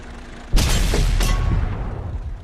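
A single loud cannon blast from a Waffenträger auf Pz. IV tank destroyer in World of Tanks booms, then a short crack follows and the sound fades into a rumbling tail.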